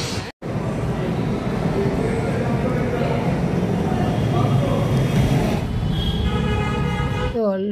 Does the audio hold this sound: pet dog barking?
no